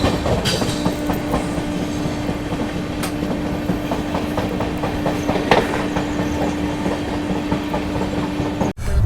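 The Agartala Tejas Rajdhani Express picks up speed, with a loud, steady rumble of the carriage and repeated clickety-clack of wheels on rail joints, and a faint sustained tone runs underneath throughout.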